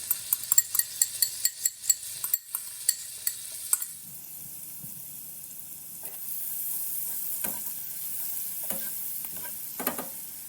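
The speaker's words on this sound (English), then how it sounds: "go ahead and add your garlic. You're gonna fry this off in the butter for about a minute" Garlic frying in melted butter for creamy Tuscan salmon opens with a rapid run of utensil taps against the pan, then settles into a soft, steady sizzle with occasional stirring scrapes.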